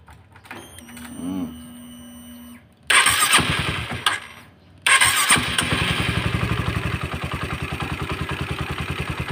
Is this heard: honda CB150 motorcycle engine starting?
yes